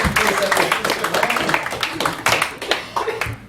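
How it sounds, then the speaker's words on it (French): An audience applauding at a live French spoken-word or stage event, with dense, steady clapping from many hands close by and no lull across the short stretch. "une bonne main d'applaudissement pour tous les gens qui ont présenté jusqu'à ce soir"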